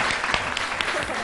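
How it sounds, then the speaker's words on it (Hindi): A studio audience on a talk show breaks into a brief burst of applause, a dense patter of clapping lasting only about a second. "जोरदार ताली।"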